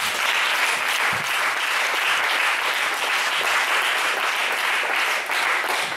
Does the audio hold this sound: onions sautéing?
no